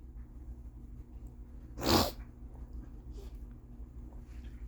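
A single sharp sneeze from a person with a runny nose bursts out close and fairly loud against a quiet room hum, with a faint sniff or breath following.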